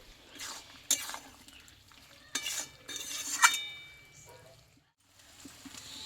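Pumpkin and potato cooking in ghee, stirred in a pan: a few distinct clinks and scrapes of utensil against metal over a faint sizzle, with a short quiet gap near the end.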